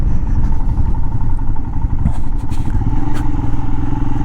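A Royal Enfield Himalayan motorcycle engine rumbles continuously at close range on a dirt road in DeSoto National Wildlife Refuge, with rattling and clattering over the steady low drone of a bumpy ride.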